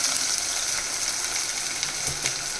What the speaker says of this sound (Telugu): అల్లం వెల్లుల్లి పేస్ట్ ఎక్కువ వేసుకోవాలి. వేసుకున్న ఇలా కొద్దిగా ఇలా వేగిన తర్వాత